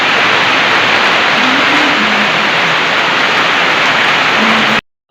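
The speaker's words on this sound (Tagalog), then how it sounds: "Lakas ang ulan." Heavy rain pours steadily on an island in the rural Philippines, a loud, dense, unbroken hiss that fills the whole stretch with no talk, then cuts off abruptly near the end.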